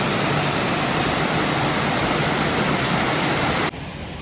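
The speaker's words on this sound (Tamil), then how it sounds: "அதோட ஒரு பாருங்க நீர்வீழ்ச்சி ஒன்று கொண்டு கொண்டு இருக்குது." Artificial waterfall in a South London park, a steady, loud broadband rush of falling water that runs without a break and then drops abruptly to a quieter wash near the end.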